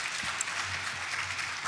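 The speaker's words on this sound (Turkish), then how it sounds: "Hocamıza bir alkış yapalım." An audience applauds a lecturer at the close of a seminar talk on income tax, a soft, even wash of many hands clapping at a distance, with no voices over it.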